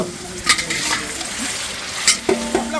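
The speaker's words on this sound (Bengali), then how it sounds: "আলুটা এখন আমরা দিয়ে দেবো ভেজে নাড়ো বন্ধু নাড়ো" Potatoes fry in a pan of gravy while being stirred vigorously, with a constant close sizzle broken by several sharp scrapes and clinks of a metal spoon against the pot.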